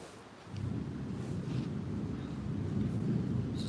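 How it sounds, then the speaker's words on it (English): Low, sustained rumble of thunder swelling in after a brief quiet start and rolling on steadily, heavy and broad with no voices over it. "Beautiful thunder."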